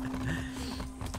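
Rapid hoof clip-clop of a ridden horse in the video game Far Cry 6, a steady rhythmic patter under a constant hum and game noise, with faint voice in the background.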